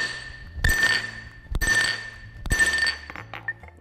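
Cold magnesium piece struck while being forged, with three loud, ringing hammer blows about a second apart, each with a glassy metallic ring as the metal cracks and breaks.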